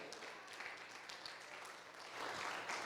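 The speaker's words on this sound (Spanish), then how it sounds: "Dale un aplauso al Señor." A church congregation at a Spanish-language Christian service applauds, a faint, steady wash of many hands clapping that grows a little louder toward the end.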